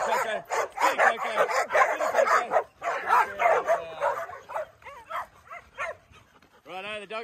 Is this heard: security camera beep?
no